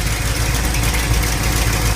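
An engine idles at about 800 RPM at initial ignition timing, a loud, close, steady rumble with a low, even throb throughout.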